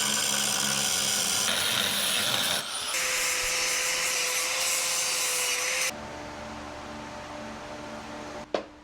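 A loud power tool grinds and cuts through steel plate continuously, its pitch shifting between passes, ending with a sharp clank.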